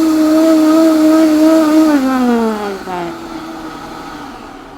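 A blender running at full power grinds hot peppers with vinegar into a wet puree, a loud steady whir that slowly drops in pitch as the mash thins out.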